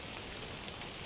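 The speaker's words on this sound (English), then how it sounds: "It's raining." Brief burst of steady rain in the game Aloft, a broad, unbroken hiss at moderate level with no speech over it.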